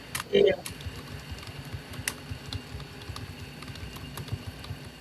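Light, irregular keyboard clicks tap away at a steady working pace, with a brief burst of voice near the start.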